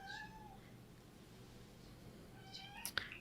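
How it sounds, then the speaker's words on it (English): A pet cat meows twice indoors, a short call near the start and another near the end, fairly close but soft behind a quiet room hush. "Please ignore my cat in the background."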